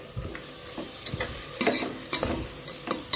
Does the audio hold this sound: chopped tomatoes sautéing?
yes